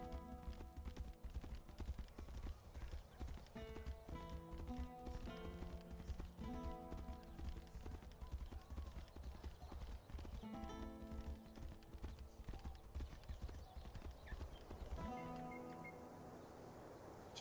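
Horse hooves clip-clopping in the video game Tainted Grail: Fall of Avalon, a steady galloping rhythm under continuous game music and ambience, with a sudden drop near the end as the horse stops.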